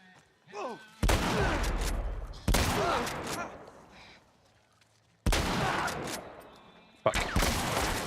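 Shotgun blasts in the game The Last of Us boom out as four loud, abrupt shots with long decaying echoes, separated by quiet gaps, with brief voice sounds before the first.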